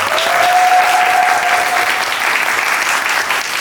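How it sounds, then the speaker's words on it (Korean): Dense, loud applause from a theatre audience at the curtain call of the final performance of the musical Gwangyeom Sonata, sustained evenly for the whole stretch with no voices over it. "여러분들 큰 박수 부탁드리겠습니다"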